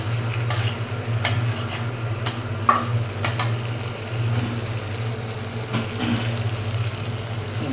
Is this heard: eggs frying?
yes